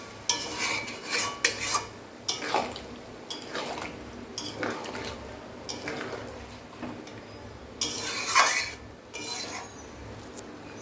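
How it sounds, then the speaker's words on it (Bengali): Mutton paya being stirred with its boiled stock in a pot, a ladle scraping and clinking against the metal in irregular bursts over a soft simmer, no talk. "মাটনের টেঙ্গি সেদ্ধ করা যে জলটা আছে এটা দিয়ে দিচ্ছি। দিয়ে আমরা হালকা করে নাড়িয়ে দিচ্ছি।"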